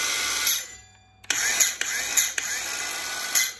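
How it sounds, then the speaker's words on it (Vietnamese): A Japanese handheld power tool with a safety switch, brake and LED light whirs up after its trigger is pressed. It runs in short, close, fairly quiet bursts after a brief lull. "khi mình bóp mình sẽ đẩy công tắc an toàn này xuống nó mới chạy nha nè"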